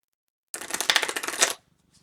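Force of Will trading cards being shuffled by hand, a dense burst of rapid riffling card flicks lasting about a second, close and fairly loud, then quiet.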